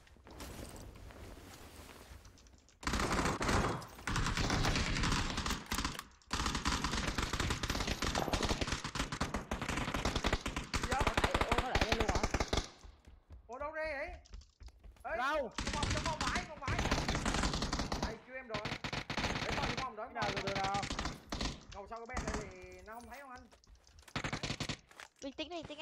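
Machine gun fire in a battle royale video game sounds as long, loud sustained bursts broken by brief pauses, with voices talking between and over the shooting.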